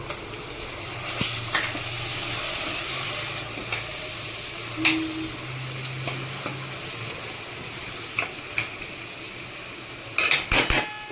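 Tomatoes sizzle as they go into a frying ginger, garlic and chili paste, a steady hiss with occasional spoon stirs and clinks against the pan, and a sharp clatter of utensils near the end.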